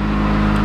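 Car engine idling in cold weather while it warms up, a steady low rumble that is close and constant.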